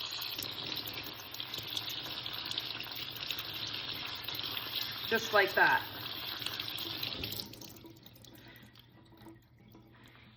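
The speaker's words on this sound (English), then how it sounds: "I'm gonna move this aside and I'm gonna rinse it with water." Tap water runs steadily into a kitchen sink while a crab is rinsed, a brief splash midway, then the flow stops; a voice speaks briefly over it.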